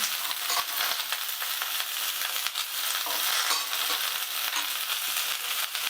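Vegetables and drumstick pods being stirred in a hot pan for a vegetarian curry, a steady soft sizzle broken by frequent scraping clicks of the spatula, close and without talk.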